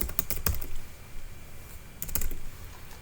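Someone types on a computer keyboard while entering data fields, with quick bursts of close key clicks separated by short pauses.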